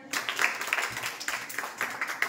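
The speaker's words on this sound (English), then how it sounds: "Clap for them." Students in a sixth-standard class clap for three girls still in a King Says game, a steady burst of applause from a group of hands indoors.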